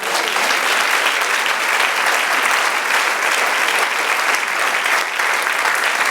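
Sustained, dense applause from a large church congregation, steady and loud throughout with no pauses.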